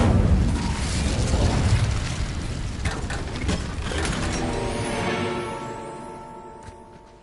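A fire spell, Incendio, cast in Hogwarts Legacy on PS5: a loud whooshing, crackling burst of flame with rumbling booms that roars steadily for several seconds, then fades into a softer ringing tail.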